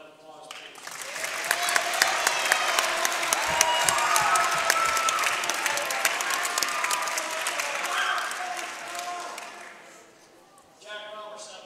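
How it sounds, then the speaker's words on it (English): A crowd at a high school basketball ceremony applauds the players in a loud, sustained burst of many hands that swells, then tapers off near the end, with talk and cheering mixed in. "Another round of applause,"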